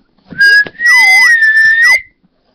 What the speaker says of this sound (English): He can whistle, but not that much.